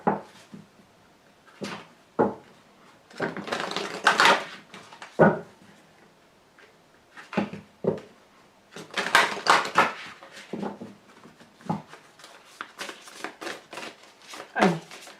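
Tarot cards are shuffled, riffled and drawn, giving bursts of papery flicking and slapping with short pauses between them. The sounds are close and fairly loud, and no talk is heard over them.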